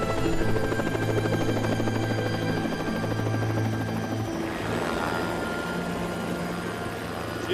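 A helicopter in flight, loud steady rotor thump and engine whine close by, continuing throughout with no talk.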